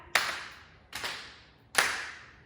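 Three crisp hand claps, evenly spaced and close, mark the steps of a Samoan Manumea dance move, each ringing briefly in a quiet room.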